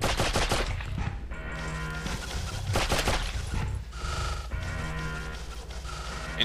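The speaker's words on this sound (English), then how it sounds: "It's turned into a shooting game." Rapid gunfire bursts in the Abe's Oddysee video game, loud and dense, with repeated volleys over game music and effects and no talk.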